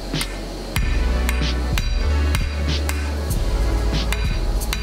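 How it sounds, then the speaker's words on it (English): Rounding hammers strike hot steel on an anvil while forging a knife blade from a billet, with loud, sharp ringing blows repeating in an uneven rhythm over a steady low hum close by. "we're just getting her used to swinging some hammers"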